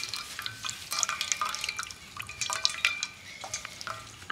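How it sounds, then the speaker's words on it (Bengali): Water from homemade mozzarella being strained off, with whey trickling and dripping in a steady, soft patter at close range; there is no speech. "এবার আমি চিজের মধ্যে থাকা যে জলটা রয়েছে এক্সট্রা, সেটাকে এইভাবে ধরে আমি ছেঁকে নেব।"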